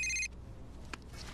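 A telephone rings with a bright electronic trill for a brief burst at the start of an indoor film scene, then cuts off into quiet room tone.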